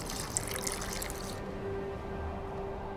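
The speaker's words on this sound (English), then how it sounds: "A bit of water." In The Witcher 2, a bit of water is poured into an alchemy mixture of burnt lime, a short splashing pour that stops partway and leaves a quiet background.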